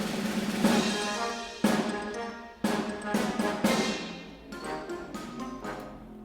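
A playful animation music cue opens with a rolling snare, then a bright xylophone fanfare over bass notes, played in bursts with sharp restarts and no talking.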